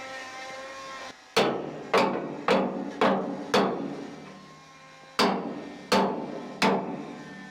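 A hammer rings on steel as a boat bow plate is fitted, with eight sharp, loud metallic blows in two uneven groups, each leaving a brief resonant decay.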